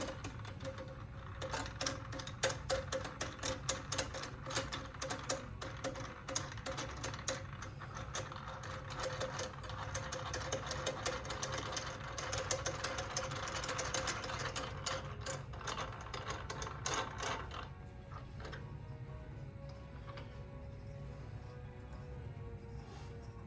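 Dense ratcheting clicks from screws being tightened on an Epic Games dual monitor arm mounted to a gaming table, a rapid mechanical pawl chatter running steadily for most of the clip, then easing off to quieter handling.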